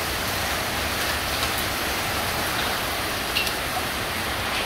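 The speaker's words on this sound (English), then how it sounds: "You can hear the hail." Dense, steady downpour hissing evenly, with faint scattered ticks of hail mixed into the continuous roar of heavy rain falling at about 12.5 inches per hour in Dallas, Texas.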